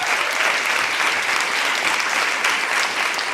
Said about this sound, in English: Let's have a round of applause for all of our speakers.